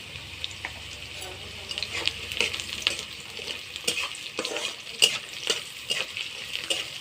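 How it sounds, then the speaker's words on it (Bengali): Onion and garlic, seasoned with salt and turmeric, fry in a pan for a shrimp and taro-leaf dish, a steady sizzle under repeated scraping stirs at close range. "পেঁয়াজ রসুনটা আমার ভাজি হয়ে গেছে।"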